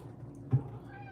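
A pet cat lets out one short, fairly close meow over a quiet indoor background.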